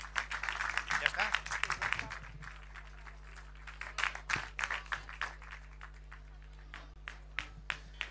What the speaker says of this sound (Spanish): Un fuerte aplauso a los dos